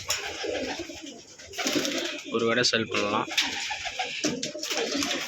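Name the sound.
pigeons cooing, Karna tumbler pigeons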